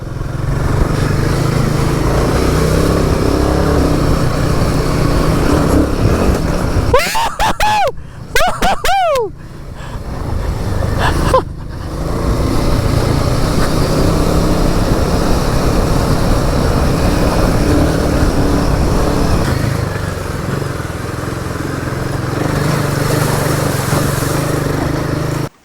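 A Royal Enfield Himalayan 450 motorcycle rides an off-road trail, its engine loud and close with constant wind rumble, briefly easing off for a few seconds in the middle before pulling steadily again.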